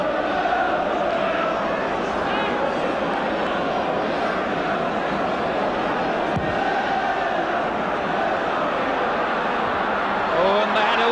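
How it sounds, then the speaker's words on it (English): Wolves supporters at a 1980/81 league match against Wrexham chant the name of substitute Norman Bell, a dense, steady stadium roar of massed voices that runs unbroken and fairly loud throughout. "the crowd singing the name of Norman Bell, the Wolves substitute, who's brought them back to life"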